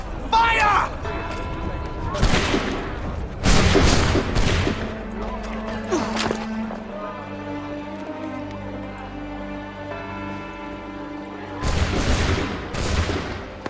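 Musket volleys in Assassin's Creed 3: several loud, crackling salvos of massed shots rise and fade between stretches of quieter ambience, with voices shouting in between.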